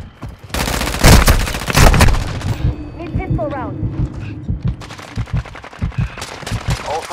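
Gunfire in Call of Duty: loud bursts of automatic fire and heavy shots early on, then scattered sharper reports through the rest, with a voice talking over the action.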